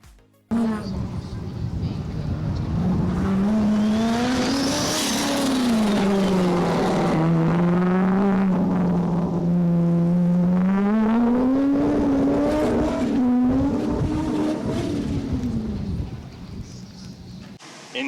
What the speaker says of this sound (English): running a fairly interesting 8-into-1 exhaust setup, so it sounds pretty different to most LSs you'll hear out there